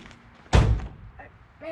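A single heavy thud of a large car door slamming shut, loud and close, followed by the low rumble of the big-block engine idling.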